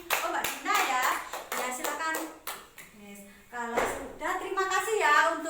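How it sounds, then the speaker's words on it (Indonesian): Hand clapping from a classroom group during peer-teaching practice, a short burst of claps mixed with children's and adult voices talking over it. "Beri tepuk tangan untuk Mbak Olive."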